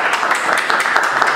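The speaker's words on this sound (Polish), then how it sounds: "Wielkie brawa." Short, dense burst of applause from an audience welcoming a guest reader at a school event devoted to readings of Józef Tischner's writings. The clapping is steady and fairly loud.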